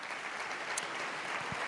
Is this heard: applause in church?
yes